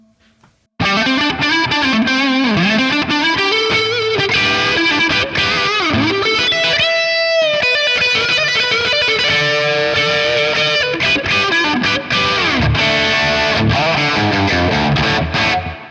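Heavily distorted electric guitar through a Neural DSP Quad Cortex capture of a Dreadful Purple Nightmare amp, with compressor and Friedman boost, plays chords and riffs continuously with a thick tone, loud and saturated, with no talking.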